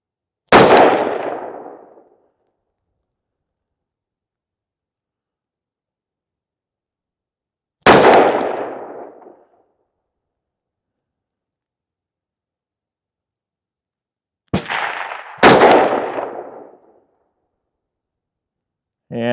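Rifle shots from Atomic Ammo 77 grain match ammunition fired outdoors at long range: four sharp loud cracks, each ringing out briefly, spaced with long silent gaps and the last two close together.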